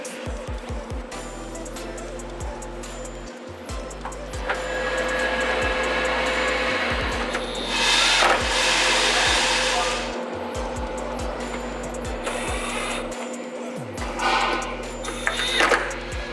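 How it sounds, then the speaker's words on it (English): Screws are driven back in and tightened on an AWE exhaust for a BMW G8X M3/M4, with a close, steady motor whine and repeated short on-off pulses from the driving tool. "Now you can reinstall the screws and tighten them back down."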